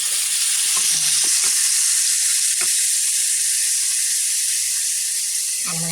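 Garlic frying in a hot pan gives a steady, bright sizzle that holds evenly throughout, with occasional clinks and stirring knocks from a utensil over the hiss.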